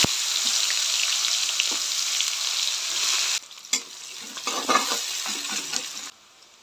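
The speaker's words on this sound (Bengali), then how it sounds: "গরম তেলের উপরে কালো জিরা দিয়ে দেবো, দিয়ে পেঁয়াজ কুচিগুলো দিয়ে দেবো।" Black cumin seeds and chopped onion frying in hot oil give a steady, loud sizzle, with scraping stir strokes breaking in near the end before the frying dies down to a quieter hiss.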